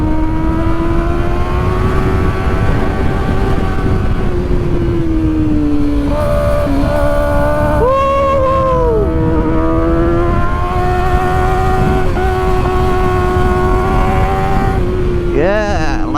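A Kawasaki Ninja ZX4-RR at speed on a city road gives a loud, steady high engine whine with rising and falling pitch through gear changes, heavy wind rush throughout.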